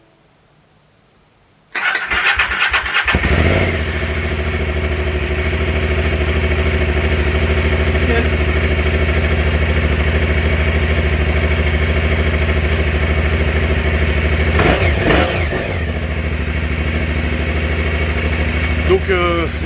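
An engine is started by bridging a faulty starter relay with a screwdriver: silence, a brief cranking burst, then it catches and settles into a steady, loud idle that runs on with a few small fluctuations.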